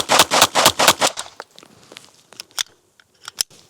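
A rapid burst of about eight sharp, loud cracks in even succession from a Fort-12R traumatic pistol, then scattered fainter clicks and knocks with pauses between.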